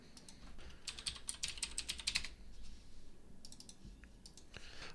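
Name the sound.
typing on a computer keyboard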